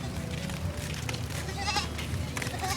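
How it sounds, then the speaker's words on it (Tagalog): A goat bleats a few times amid a noisy outdoor scene, its calls mixed with background chatter and rustling. "Ito, ang laki ng kambing."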